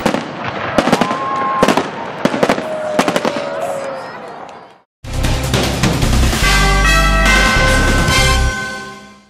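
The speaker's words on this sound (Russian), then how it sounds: "Завершился праздник красочным фейерверком." Fireworks close a town festival in Desnogorsk, crackling and popping in rapid bursts, then a brief gap followed by dense, loud booming and sizzling, with crowd noise and talk mixed in.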